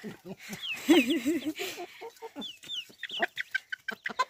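Village chickens cluck and a rooster call rises briefly, with scattered short clucks from hens and chirps close by, fairly quiet.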